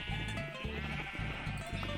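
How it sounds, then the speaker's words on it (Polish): Sheep bleating in Minecraft: repeated wavering bleats from a house full of sheep, close and loud, overlapping one another against constant background noise. "Owce, wynocha stąd, wynocha."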